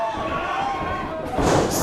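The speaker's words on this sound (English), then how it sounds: "Slammed right into the mat." A pro wrestler slams hard onto the mat during a multi-man scramble match, one heavy thud rising over a steady crowd roar and commentary.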